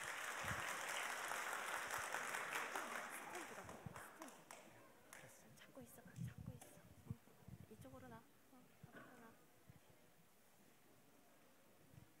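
Audience applause at a children's church Bible festival, welcoming a six-year-old kindergarten preacher: broad clapping fills the first half, thinning into scattered claps and faint murmuring toward the end.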